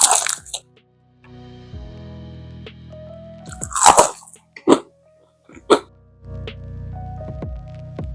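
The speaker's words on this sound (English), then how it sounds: "let's see if we can get a second crunch out of this" Close, loud crunches from biting into a crispy air-fried garlic and herb chicken wing, followed by a few sharp crackling bites and quieter squishy chewing between gaps of near silence.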